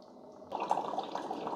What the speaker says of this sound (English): this is going to run water through that K-cup adapter to clean those needles and keep the machine nice and clean